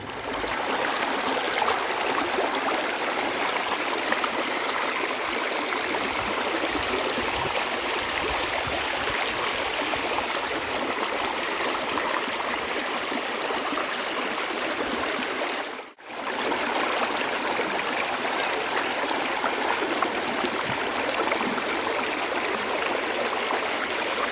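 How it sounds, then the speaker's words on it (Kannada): A babbling stream flows steadily through Malenadu countryside, its continuous watery rush close and even throughout, broken only by one brief dropout near the end. "ಜುಳು ಜುಳು ಅಂತ ಹರಿಯೋ ನೀರಿನ ಶಬ್ದ ಕೇಳೋಕ್ಕೆ ಕಿವಿಗೆ ತುಂಬಾ ಇಂಪಾಗಿದೆ"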